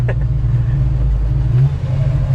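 A 1965 Ford Mustang's deep engine rumbles loud and close, its revs rising slightly partway through.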